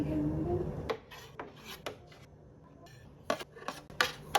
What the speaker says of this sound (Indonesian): Sekarang kita akan susun puding mawarnya di dalam loyang